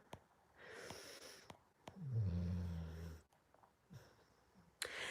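A person snores once in a long, rough, rasping breath in the middle, faint and close, in an otherwise quiet room with a few small clicks.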